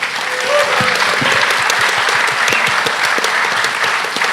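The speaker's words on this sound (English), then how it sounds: "Big round of applause for today, everyone's speakers, for yourselves." Conference audience applauding at the close of a day of talks, dense steady clapping from many hands filling the room without pause, with faint scattered voices underneath.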